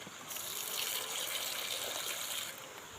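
Fertilizer solution poured out over potted grafted cocoa seedlings in a garden, a short steady gush of water splashing for a couple of seconds before tapering off, close and alone.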